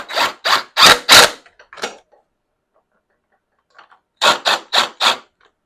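A 5mm Allen wrench tightens a seat cap screw on a TT1600R in two quick bursts of sharp, close ratcheting clicks separated by a silent pause.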